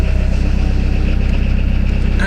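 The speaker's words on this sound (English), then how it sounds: "Absolute legend of an engine." A Peugeot 306 engine idles after seven years in storage, a loud, close, evenly pulsing low rumble running steadily throughout.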